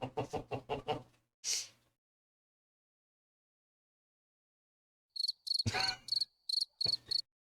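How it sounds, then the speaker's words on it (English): A cricket chirping sound effect plays in short rhythmic bursts, first a run of quick chirps, then a sharper, brighter string of chirps after a silent gap. "Yeah, you better just keep the crickets going."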